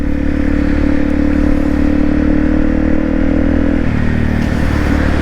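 A Honda CRF250 Rally motorcycle ridden on a snowy, slushy commute, its engine droning steadily and loud up close with a constant harmonic hum, shifting slightly in pitch near the end.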